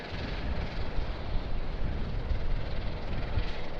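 An airliner taxiing at Sydney Airport past Ship's Mound produces a continuous, steady jet engine rumble and broadband roar at moderate distance, with no distinct peaks.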